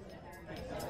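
Background bar crowd sound effect played over a phone line: a continuous murmur of many voices chattering at once, with faint glass clinks, steady and moderately loud throughout.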